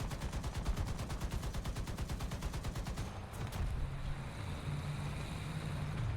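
Twin .50 caliber machine guns on an American T77E1 anti-aircraft vehicle in War Thunder, hammering in a fast, even rhythm for about half the stretch before stopping, leaving a low engine rumble.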